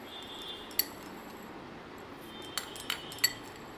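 A spoon clinks lightly against a metal or glass bowl while sugar is added to warm chhena, a few quiet, sharp taps spread over a faint, otherwise still background.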